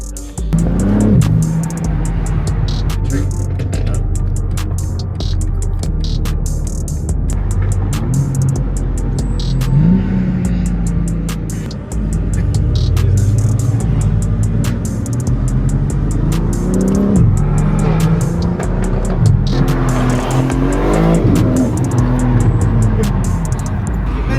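A BMW G80 M3 engine revs at a car meet, with repeated rising and falling pulls over a constant low rumble, loud and close, while people talk around it.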